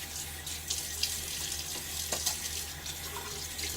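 Tap water runs steadily into a sink during rinsing after a wet shave with a Maggard V3 razor and Feather blade, a continuous close splashing hiss with small clinks and no speech.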